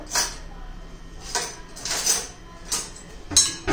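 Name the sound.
whisking curd (yogurt) in a bowl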